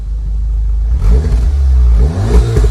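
A tuned late-2017 VW Golf 7R, 360 hp and 500 Nm, rumbles at idle up close, then the engine revs in a few quick rising blips over its loud low drone.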